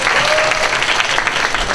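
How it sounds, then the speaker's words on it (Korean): Audience applause welcoming a student-loan borrower introduced as a panelist at a youth forum, a dense steady clapping that fills the short stretch at full loudness without gaps. "큰 박수 부탁드릴게요."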